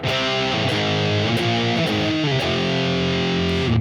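Electric guitar played through a hot British Orange amp with heavy distortion, sustained chords and bent notes ringing loud and continuous with a thick, saturated, noisy tone, no talking.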